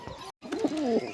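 Pigeons coo softly nearby in a short burst of throaty, warbling calls after a brief gap of silence.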